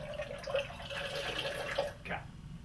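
A bartender doing flair pours liquid from a bottle into a metal tin, a steady close trickling stream that cuts off briefly before a short final splash.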